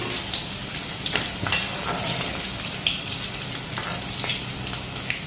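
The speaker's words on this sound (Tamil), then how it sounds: "நல்லா ப்ரௌன் கலர் ஆற வரைக்கும் நல்லா ஃப்ரை பண்ணிக்கோங்க." Rice pakoda frying in hot oil, a steady close sizzle with bright crackling bursts running throughout, no voices over it.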